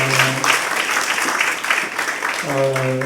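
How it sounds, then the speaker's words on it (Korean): A church congregation at a Sunday evening service gives a round of applause, the clapping running under voices that speak at the start and again near the end. "뜨겁게 축복의 박수 한번 더 드리겠습니다"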